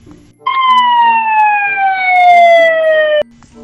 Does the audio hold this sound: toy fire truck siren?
yes